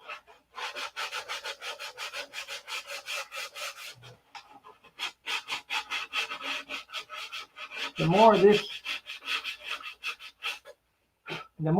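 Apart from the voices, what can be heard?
sanding wood by hand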